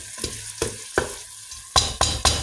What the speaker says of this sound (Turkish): Bu biraz burada kendi kendine bir bıcırdama mıcırdama bir şeyler yapacak burada tamam mı?